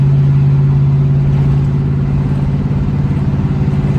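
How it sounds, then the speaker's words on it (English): A steady, deep exhaust drone from a 1968 Chevrolet Impala with a 383 V8 at constant revs, loud and close, with a throbbing low hum throughout. "Sounds pretty good, but there's that drone."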